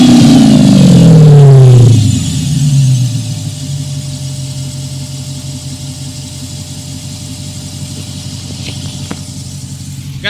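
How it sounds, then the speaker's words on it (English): A Dodge Charger Pursuit engine heard close at the air intake, loud rising rev that drops back to a steady rumbling idle, alone with no voices. "I'm gonna put the mic right here by the air intake so y'all can hear when I rev it"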